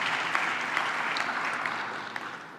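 An audience applauds at a speech on a new Africa–Europe alliance, giving steady, dense clapping that holds for over two seconds and then thins slightly toward the end.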